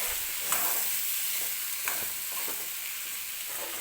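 Salt being stirred into black bean usal in a pan, a spoon scraping steadily with soft sizzling beneath and a couple of sharper knocks against the pan, close and alone.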